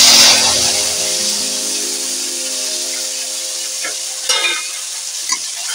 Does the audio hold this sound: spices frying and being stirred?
yes